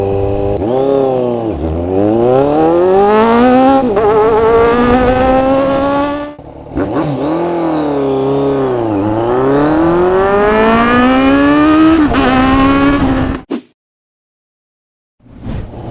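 A loud motorcycle engine with an aftermarket racing exhaust revs repeatedly, climbing sharply in pitch through the gears with a raspy exhaust, then cuts off abruptly before a brief restart.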